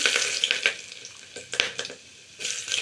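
Garlic, cumin seeds and whole spices sizzle and crackle in hot oil in a home kitchen pan, a steady close frying hiss with sharper pops and spatters, no talking.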